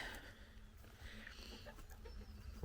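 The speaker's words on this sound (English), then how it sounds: "I see the old chooks over here." Backyard hens clucking nearby, a few soft, irregular clucks and murmurs over quiet outdoor background, faint and intermittent.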